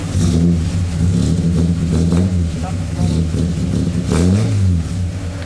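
A Ford AU Falcon with an Intech engine and a rough cam revs loudly and steadily up close, the lumpy idle rising and falling in a couple of throttle blips, with voices talking over it.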